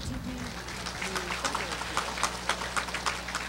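Audience applause for models at a Tet 2010 event, dense steady clapping from a crowd, fairly close, with a voice heard briefly at the start.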